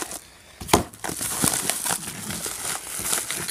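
Trading cards being pulled one after another from a crinkly plastic bag or mailer, with steady close crumpling and rustling and a few sharper crackles.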